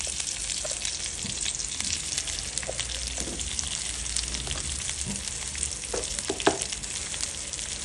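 A masala with peanut powder and grated coconut sautés in a pan, giving a dense, steady sizzle with scattered crackles and a few sharper stirring knocks, close and continuous with no voices.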